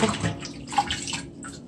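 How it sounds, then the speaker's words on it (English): Thyme is rinsed under a running kitchen tap, with a short burst of splashing water that rises and falls unevenly over less than two seconds. "Let me just rinse the thyme off."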